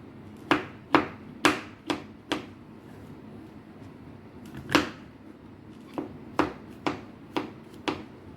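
A knife chops mushrooms on a cutting board in quick, sharp close taps. A run of five comes first, then a pause, a single chop, and a final burst of five.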